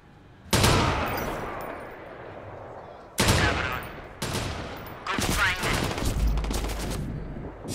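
Gunfire in Watch Dogs 2 arrives as sharp, loud bursts: a single crack, then more shots and a rapid volley, each tailing off into echo, with no talk.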